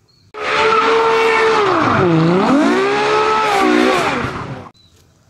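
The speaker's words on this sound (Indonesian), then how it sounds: "ada mobil Lamborghini" A toy Lamborghini car racing sound effect plays loudly and steadily for about four seconds, a revving, whining engine tone that dips and rises in pitch with squealing tires, then cuts off abruptly.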